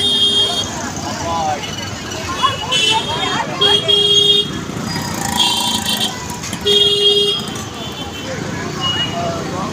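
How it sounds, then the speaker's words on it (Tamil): Busy roadside traffic with engines and crowd babble, punctuated by several loud car and bus horn toots at irregular intervals, while people talk nearby. "அங்கே ஒரு டிராஃபிக் நிற்கிது பாருங்க"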